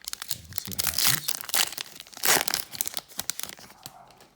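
Pokemon card packs, Shiny Star V booster packs, ripped open by hand without scissors: repeated close, crisp foil-wrapper tearing and crinkling bursts, loudest around the middle, with no talking.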